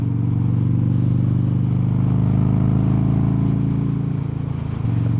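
A 2007 Harley-Davidson Softail Deuce motorcycle rumbling steadily at close range while being ridden, with a deep, continuous engine drone that dips briefly near the end.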